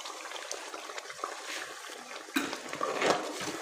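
Water poured into a cooking masala for a chickpea gravy, heard as a soft, steady trickle up close that turns into a louder splashing pour partway through.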